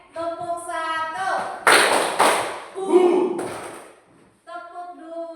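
A class of children performs a spirit clap in a classroom, two sharp bursts of group clapping in quick succession followed by a shorter clap, with a teacher talking before and after.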